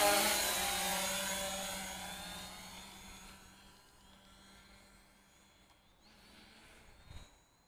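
A Hubsan Zino drone pushed to full throttle forward, its whirring rotor hiss loud at first and then steadily fading as it flies off into the distance, with no talk.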